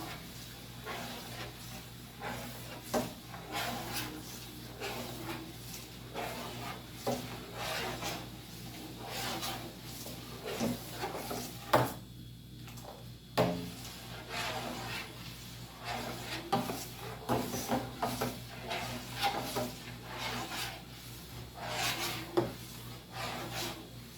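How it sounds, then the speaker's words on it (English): Malt being stirred in a pot to dissolve it for a homemade beer brew, heard as steady scraping and rasping strokes against the vessel, repeated rhythmically and fairly close, with a short pause partway through. "I'm going to continue stirring until all the malt is thoroughly dissolved"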